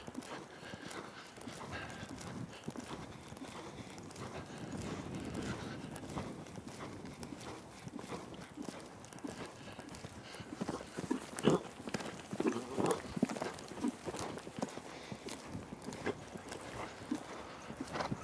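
A horse's hooves thud over a jumping exercise with ground rails, giving faint clip-clop steps that grow louder and more distinct in a steady rhythm against a noisy outdoor background.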